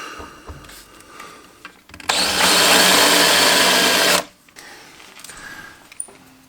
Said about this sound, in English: I'm going to drill our other hole.